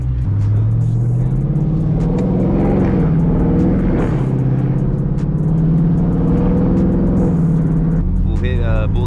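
A lowered Dodge Charger 392 Scat Pack widebody engine rumbles steadily, rising and falling in pitch as it revs and shifts through a canyon, heard from inside the moving car with no talking.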